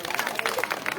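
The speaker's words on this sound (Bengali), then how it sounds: "হাততালি।" An audience claps at a prize distribution ceremony, a brief, dense patter of many hands heard close and fairly loud.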